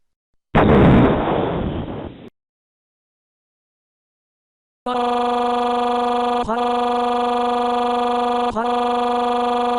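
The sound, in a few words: explosion underneath a pyramid in a video game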